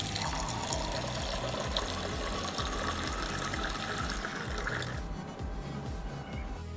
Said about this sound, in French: N'oublie pas de placer ton récipient sous l'orifice de distribution et appuie sur le bouton de distribution.